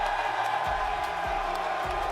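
An esports watch-party crowd for a Call of Duty League Miami Heretics major cheers and whoops steadily for a champion, a dense, continuous roar with no break.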